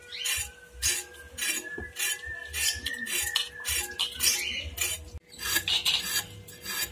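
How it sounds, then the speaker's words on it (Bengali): A metal kadai is set onto a home stove, with close, repeated rasping scrapes and light metallic clinks that come in uneven bursts over several seconds. "উনুনের মধ্যে কড়া বসিয়ে দিচ্ছি"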